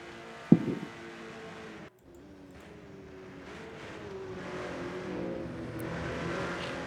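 Race cars drift and jostle for position in the racing game RENNSPORT. A sharp knock is followed by a steady engine drone that swells as the cars accelerate through a corner.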